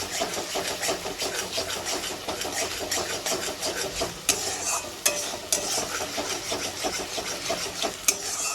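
Masala for doi katla fish curry fries and is stirred hard in a pan, giving a dense, near sizzle with constant scraping and several sharp clanks of the utensil against the metal.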